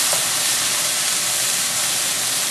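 Loud, steady sizzle of fish stir-frying in a hot wok with ginger, garlic and a splash of cooking wine, a dense continuous hiss close up with no talking.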